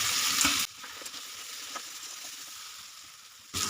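Peas frying with spice paste in a pan give a loud, dense sizzle that drops to a quieter, crackling simmer for a few seconds before the loud hiss returns.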